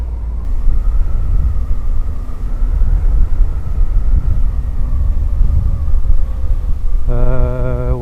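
A Suzuki V-Strom 800 DE motorcycle engine rumbles under wind roar while riding, the engine tone shifting between gears with the quick shifter, and a rising whine near the end.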